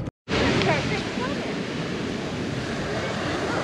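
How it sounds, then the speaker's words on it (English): Ocean surf on a beach in Maui at sunset, a loud continuous broadband wash of waves with some wind noise, steady after a brief dropout at the start. "we just made it to the beach for sunset"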